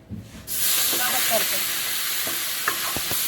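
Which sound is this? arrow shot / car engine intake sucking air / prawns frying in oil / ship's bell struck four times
prawns frying in oil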